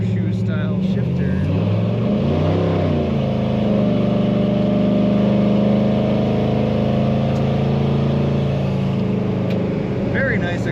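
A 1971 Chevrolet Chevelle with an automatic transmission idles with a deep, steady exhaust rumble close by, a brief rise in pitch partway through, and the low drone holding throughout.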